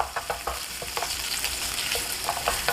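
Minced pork stir-frying with ginger in a wok, broken apart as it cooks: a steady bright sizzle with repeated scraping and stirring clicks from a utensil, close and continuous, with no talking.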